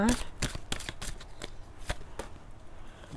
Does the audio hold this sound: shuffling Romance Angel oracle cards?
yes